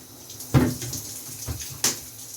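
Water bursts on and off in a home shower, brief gushes and splashes against a low steady hiss, close and fairly loud.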